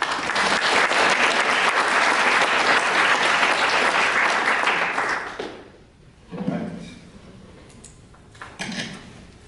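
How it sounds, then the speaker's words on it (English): An indoor audience claps in loud sustained applause for several seconds before it fades out, followed by a few scattered thumps and quiet room noise. "Join me in giving him a round of applause."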